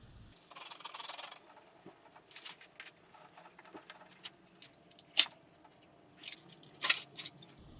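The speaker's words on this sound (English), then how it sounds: "I'm going to wet sand the whole bumper with 2000. A little bit of 3000 for good measure." A Volkswagen MK7 GTI front bumper is wet sanded with 2000 and 3000 grit sandpaper, giving soft, faint rubbing and scratchy strokes with a few sharper brief scrapes, close by and quiet, with no talking.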